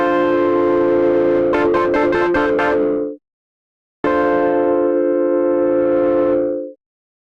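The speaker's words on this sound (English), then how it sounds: "You've got a drive control to add more or less distortion." A tone from the NI FM8 synthesizer played through its overdrive effect gives a warm, distorted sustained sound with a quick stuttering burst, repeated in two long held notes separated by a short silence.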